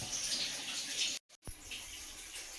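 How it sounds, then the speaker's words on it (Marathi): Water pouring steadily from a glass into a pressure cooker pot for cooking dried peas, a faint continuous trickle with a brief pause midway. "दीड ग्लास या ठिकाणी आपण पाणी घेतलेलं आहे"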